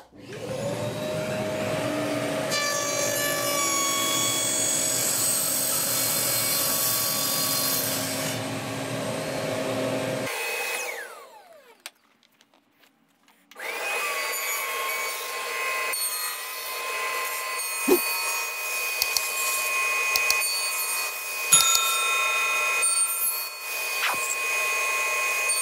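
A table saw with its blade cranked fully up cuts thick plywood for a bed frame, giving a loud, steady whine with a rough rasping edge. The blade briefly spins down, then starts again and keeps running steadily.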